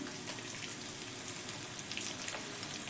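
Paneer cubes frying in oil in a pan give a steady, dense sizzle with fine crackling spatter throughout, close and continuous, with no talking.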